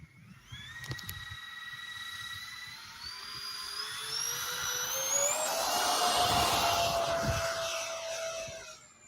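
A radio-controlled 3D jet spools up and takes off at an RC flying field, its turbine whine rising in pitch and growing louder to a sustained roar before easing slightly, with no talk over it.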